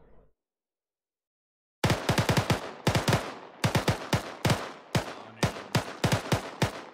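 Gunfire in the Arma 3 military video game during a Zeus co-op mission: after a brief pause, a rapid series of loud, sharp shots rings out in bursts, close and dry, with no talk over them.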